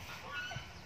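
A goose gives a short, breathy hiss at close range, a brief rasping burst under a second long.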